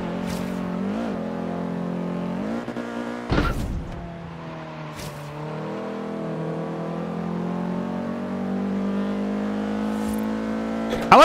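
A Mercedes C63 AMG engine in Forza Horizon 3 drones steadily with a rich, harmonic tone, rising and shifting pitch as it accelerates, with a couple of brief sharp bursts between gear changes, and no voices over it.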